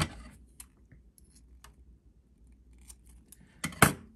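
Scissors snip a small piece of tape, a sharp close cut near the end after quiet handling noises and faint clicks of tweezers.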